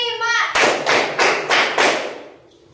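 A group of children in a classroom claps in unison during a clapping game, five crisp, loud claps at an even pace after a brief voiced lead-in.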